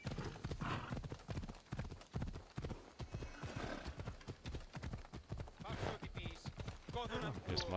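Horse hooves clip-clopping at a steady trot in Assassin's Creed Odyssey, the rapid rhythmic beats loud and continuous, with a brief whinny and faint talk underneath.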